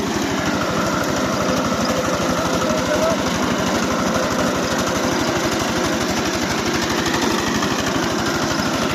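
A converted Forte 10 walk-behind tractor drives a one-metre rotary tiller through soil, its small engine running in a loud, steady, rapid chugging drone that holds unbroken throughout.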